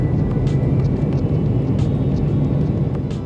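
Cabin of an MD-80 airliner flown by TezJet in Kyrgyzstan while circling down toward the airport: a loud, steady low engine and airflow rumble with no talk.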